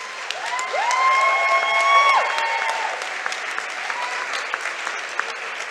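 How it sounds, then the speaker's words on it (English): Symposium audience claps for three departing board members, a sustained round of applause with a few cheers and whoops rising early, then settling into steady clapping. "I just want everyone to give these three a round of applause"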